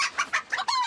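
Hens cluck in a few quick, close, sharp bursts ending in a drawn-out squawk, loud and alone.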